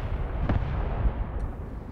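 Distant artillery fire in the Graviteam Tactics Mius Front war game: muffled low thuds, with one sharper shot early and another dull boom near the middle, over a steady rumbling battlefield background.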